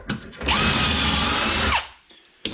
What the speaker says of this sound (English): But there's not much excitement to drilling these things.